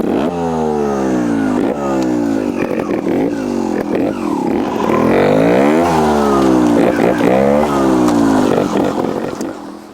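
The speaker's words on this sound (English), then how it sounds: "I've just got on Richie's bike, not moved the bars, I've adjusted his clutch a little bit" A 2024/25 Vertigo RS2 trials motorcycle revs hard and close at a trials venue, its engine note rising and falling in repeated throttle sweeps over ten seconds with some mechanical clatter.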